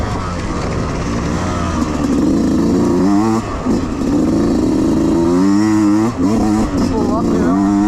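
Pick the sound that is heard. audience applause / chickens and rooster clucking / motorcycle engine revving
motorcycle engine revving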